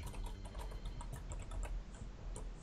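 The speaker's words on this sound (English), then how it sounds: "I'm going to start typing clues because we're running out of time." Rapid, uneven clicks of fingers typing on a computer keyboard during a word-guessing game, close and steady throughout with a low background hum and no talk.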